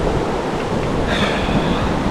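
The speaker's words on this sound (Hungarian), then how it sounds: "zúg mögöttem a Körös elég erőteljesen." The Körös river roaring strongly near the bank, a loud, continuous rushing wash of water mixed with wind, with a faint higher whine rising partway through.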